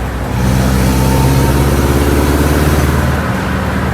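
A VW Bus fitted with a Subaru engine conversion and custom exhaust drives past with a loud, steady engine drone that holds its pitch and then eases slightly near the end.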